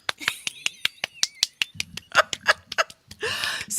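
A quick run of sharp, crisp claps pops out one after another in a steady rhythm, close and dry, followed by a short burst of laughter-like noise near the end.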